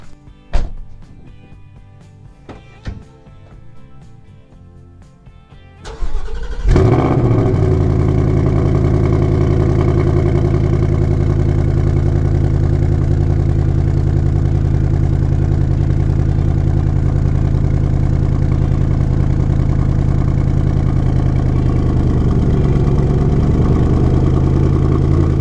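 A 2020 Ford Mustang GT V8 fires up from cold after a few faint clicks, gives a sharp rev flare, then settles into a loud, steady, rumbling idle close by that runs on alone.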